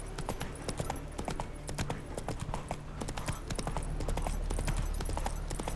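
Horse hooves clip-clop steadily in The Witcher 3 on PS5 as the mount turns and gets stuck in place, a dense run of sharp hoofbeats over a constant low rumble, with faint talk in the background.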